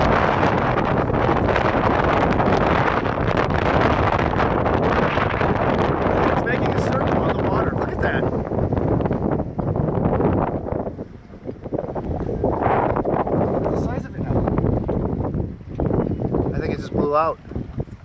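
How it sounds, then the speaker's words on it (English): Strong tornado wind sweeping across a lake with a canoe nearby, a loud continuous roar and buffeting gusts hammering the microphone for the whole stretch, with excited voices shouting beneath the rumble. "It's a straight up tornado."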